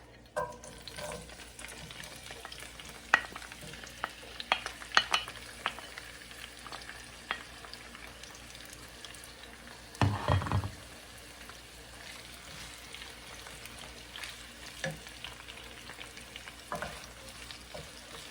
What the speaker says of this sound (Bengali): চুলার মধ্যে আমি তেল গরম দিয়ে দিচ্ছি আর এখানে আমি পেঁয়াজ রসুন আর কাঁচামরিচ একটু তেলে ভাইজানি নিব